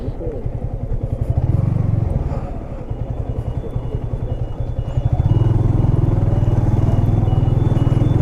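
A Yamaha R15 V3 motorcycle rolls slowly toward parking, its engine a close, steady buzzing drone that swells louder twice as the throttle opens.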